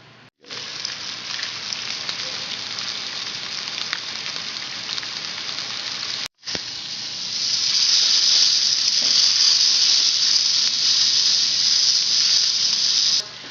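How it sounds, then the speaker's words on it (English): Pork tenderloin sizzles in hot oil in a frying pan, a steady loud hiss that breaks off briefly and then returns even stronger and brighter, with no voices. "we're just going to lay our tenderloin into the hot oil and brown it on all sides"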